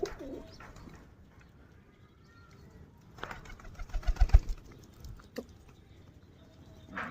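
Local pigeons in Rajshahi coo in short, soft, low bursts, with a louder cluster of coos near the middle and faint scuffling and patter around them.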